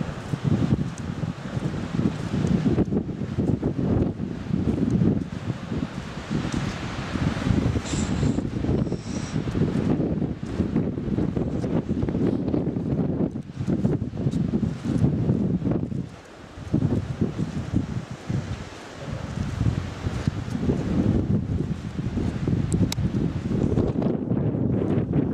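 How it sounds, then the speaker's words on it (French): Strong wind gusts buffet the microphone along a small mountain trail in the Jura, a loud, continuous roar with a brief lull partway through. "Il y a du vent quand même, pas mal de vent"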